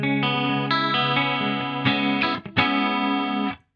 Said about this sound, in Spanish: Te apago el chorus y escuchá los detuners nada más.